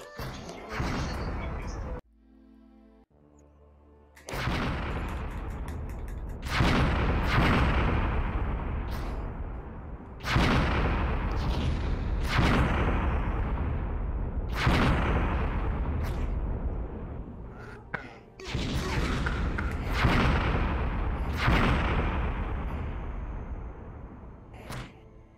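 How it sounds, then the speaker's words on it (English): Gunfire in a video game as a character shoots at targets, with heavy booming shots fired in a steady series about every two to four seconds, each loud and decaying, after a brief quieter gap near the start. "You want to be a Navy SEAL? Shoot the target."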